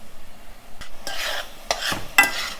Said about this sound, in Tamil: அப்பப்போ கொஞ்சம் கிளறி விடலாம்